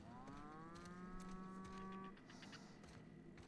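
A cow in The Outer Worlds video game gives one long, clear, fairly loud moo that fades out after about two seconds, followed by quieter ambient game sound.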